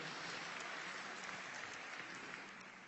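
Sustained applause from a church congregation fills the room, steady and dense throughout, tapering slightly at the end.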